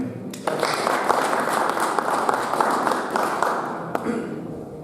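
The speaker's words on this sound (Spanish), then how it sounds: "un gran aplauso para el ingeniero" An audience applauds an engineer being introduced at a Mexican CFE Suministros Básicos congress in the southeast, a steady roomful of clapping lasting several seconds at moderate level, with a brief pause near the end.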